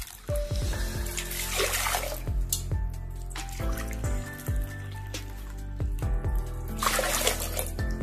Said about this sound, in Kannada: ಅದೇ ಒಂದು ಬಟ್ಲಲ್ಲಿ ನಾನು 2 ಕಪ್ನಷ್ಟು ನಾನು ನೀರನ್ನ ಹಾಕೊಳ್ತೇನೆ